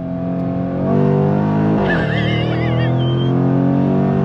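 A 2024 Jaguar F-Pace SVR performance SUV engine loudly blips through quick downshifts under hard braking, revs rising and falling with a brief tire squeal, close and dominant with no talk.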